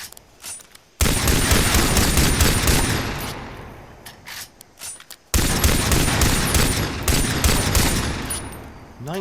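A 1911 pistol fires in the Far Cry 3 video game, two long bursts of loud rapid shots run together into dense fusillades, with a few separate cracks and gaps between them.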